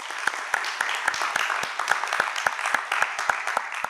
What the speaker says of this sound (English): Let's give both teams a well-deserved round of applause.